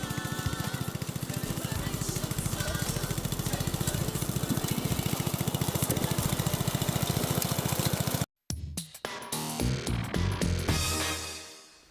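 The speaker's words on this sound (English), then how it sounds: "I'm going to mow the lawn." Lawn mower running on a lawn, a loud, steady buzzing engine drone that cuts out abruptly, then rough bumps and sputters as it restarts unevenly and fades.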